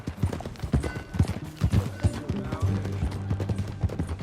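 Horse hooves clop in a quick, irregular galloping rhythm in the video game Red Dead Redemption 2, close and fairly loud, with faint voices in the background.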